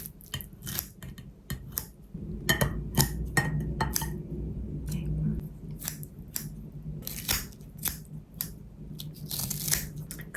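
Grilled napa cabbage topped with garlic seasoning is cut into pieces with kitchen scissors: a steady run of crisp snips with light clinks of dishes and cutlery, close by and with no talking.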